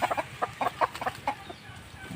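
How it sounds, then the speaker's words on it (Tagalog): Chickens on a backyard farm cluck in a quick run of short, bright notes, several birds close by, fading out toward the end. "Ayan na po yung mga manok."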